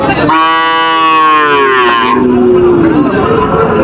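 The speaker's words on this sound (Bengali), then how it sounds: "দেখেন হিউজ গরু আছে, বড় ছোট মিশ্রিত।" At a cattle market, a large cow lets out one long, loud, drawn-out moo close by over a constant murmur of the crowd.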